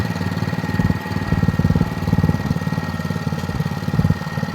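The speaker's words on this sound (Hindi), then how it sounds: "पेट्रोल इंजन है, बढ़िया काम कर रहा कुल मिलाकर।" A petrol-engine rotary tiller built for sugarcane rows runs steadily in soft field soil, its loud, close, rhythmic chugging pulsing evenly throughout with no voices over it.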